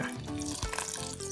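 Ginger water, strained from freshly blended ginger and seeds, pours into a bowl while preparing Nigerian fish puff-puff, a steady close liquid splash lasting just over a second with no talking.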